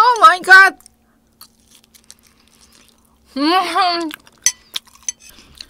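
Crunchy seasoned fried chicken is bitten and chewed close to the mic, a few crisp crunches and soft chewing following a woman's speech at the start and middle.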